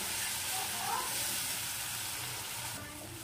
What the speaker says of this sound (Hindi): 1 बड़ी चम्मच इसमें हम मलाई ऐड कर देंगे और इसे हम 2 मिनट के लिए अच्छी तरह से भून